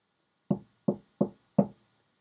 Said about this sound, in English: Another gentle knock.